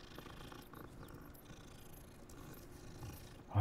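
A cat purrs in the Hogwarts Legacy video game, a soft, steady low rumble running throughout, quiet and close, ending with a brief louder thump.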